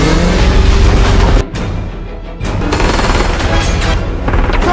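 Bursts of rapid gunfire and heavy booms crowd a loud, chaotic film chase scene, with a brief drop in intensity midway.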